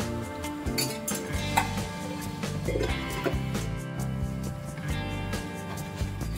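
Spices are stirred in a cooking pot with a spoon, making repeated metallic clinks and scrapes against the pot in a steady rhythm, close and fairly loud, with no talk.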